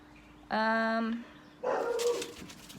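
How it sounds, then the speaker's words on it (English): Two loud, harmonic yelps from a nearby dog, the first a sustained whine-like bark, the second a rougher burst after a short pause. "Sorry, my dogs are barking."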